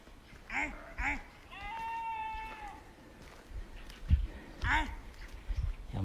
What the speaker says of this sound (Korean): 염소랑 소통을 하고 있습니다